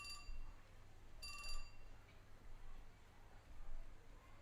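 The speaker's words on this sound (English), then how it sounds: "Just then, Minorikawa's phone chimed." A phone in the video game 428: Shibuya Scramble gives two short, quiet electronic chimes announcing an email, the first at the very start and the second a second later, over low background hum.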